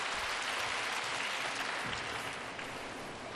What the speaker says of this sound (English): Polite applause there.